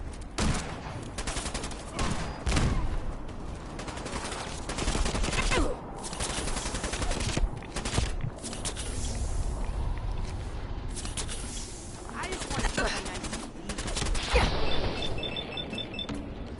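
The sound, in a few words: settler shooting incendiary laser rifle in video game Fallout 4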